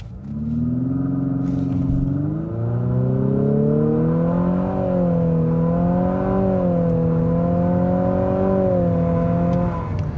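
A 2024 Infiniti QX50 Autograph with a turbocharged four-cylinder and all-wheel drive launches from a brake-torqued standstill to 60 mph, its engine note climbing steadily through the gears with brief dips at the shifts. Loud, close, with no talking.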